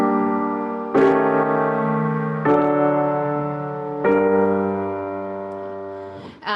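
A French augmented sixth chord and its resolution, played as three sustained chords in a row, each struck clearly and left ringing before the next, with a short bump of noise at the end and no talk.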